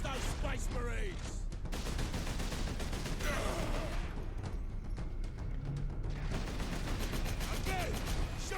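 Gunfire in the video game Warhammer 40,000: Space Marine, dense bursts of shots running through the clip amid battle noise, with a voice talking over it.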